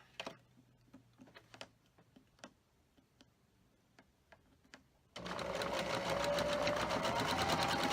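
A sewing machine stitches the long edge of a quarter-square hourglass quilt block, starting after several quiet ticks and clicks, then running steadily and loudly until the end.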